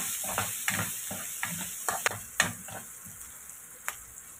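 Pork sautéing in a pan until golden brown, for pancit with squash: a steady close sizzle with irregular clacks and scrapes of a utensil stirring the meat, no voices.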